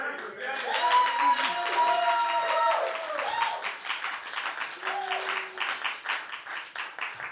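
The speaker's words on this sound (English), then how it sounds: "We applaud you." Audience applause at an open mic night, clapping that swells and continues under overlapping voices and cheering, with scattered claps tapering toward the end.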